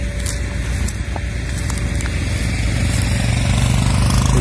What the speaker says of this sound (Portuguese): Movimento intenso de carros.